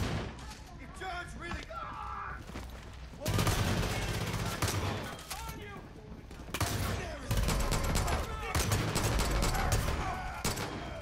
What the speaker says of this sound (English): I'm shooting them in the face with a shotgun